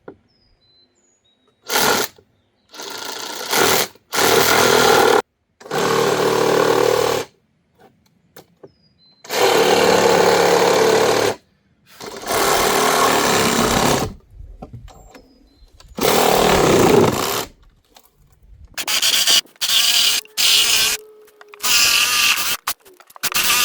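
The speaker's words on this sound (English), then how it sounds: "so we're going to use a Sawzall" Sawzall reciprocating saw cutting through a golf cart seat, several loud close bursts of harsh buzzing with abrupt starts and stops and short silent gaps between runs.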